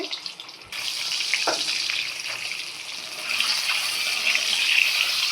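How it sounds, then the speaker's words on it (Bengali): Eggs seasoned with salt and turmeric drop into hot oil in a pan, setting off a sudden bright sizzle that continues as a steady, crackling hiss, close and fairly loud. "ডিমটা ভেজে নিচ্ছি।"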